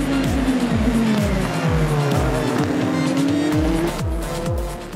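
Toyota endurance race cars run side by side mid-race at Spa Francorchamps in the Six Hours, engines buzzing loud with rapid repeated gear-shift sweeps and a rising, falling engine tone as they pass close.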